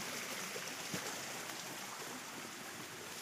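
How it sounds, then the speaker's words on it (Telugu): Water tumbling over rocks in a waterfall stream on the Donabanda trekking trail. It makes a soft, continuous hiss of flow with no break, heard alone. "భలేగా వాటర్ సౌండ్ భలే కనిపిస్తుంది."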